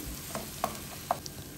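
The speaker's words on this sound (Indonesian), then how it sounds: "Aduk semua sampai tercampur rata dan harum" Ground ginger and garlic spice paste being stirred and fried in a pan for Arabian lamb mandi rice, with a soft steady sizzle and a few light scraping taps of the utensil, close and without talk.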